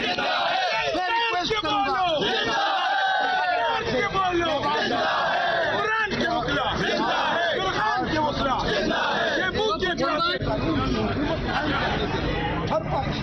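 A crowd of protesting lawyers marching outside the Supreme Court chants slogans loudly and continuously, many voices shouting together in rhythm with dense background babble throughout.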